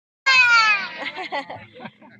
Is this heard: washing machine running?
no